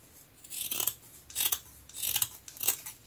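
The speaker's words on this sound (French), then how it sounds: "Alors ici, je vais couper là." Scissors snip through a jute clementine net in several close, crisp cuts with a rasping edge, each a short rhythmic burst with brief pauses between.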